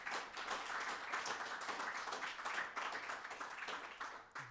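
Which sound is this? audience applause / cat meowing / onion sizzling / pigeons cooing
audience applause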